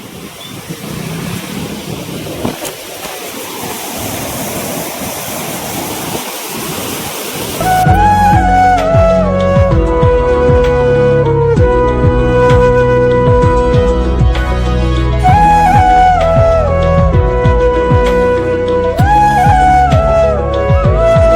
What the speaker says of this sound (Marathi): हे गेट आहे डॅमचे आणि पलीकडून पाणी येतंय. हे पाण्याचा फ्लो खूप आहे.